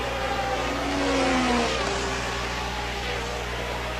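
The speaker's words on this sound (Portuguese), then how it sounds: "Dá um barulho estranho no carro do Arnoux" A 1981 Formula 1 car at the British Grand Prix, driven by Arnoux, gives off a strange engine noise: a distant rising and falling whine under heavy, steady crowd and track rumble.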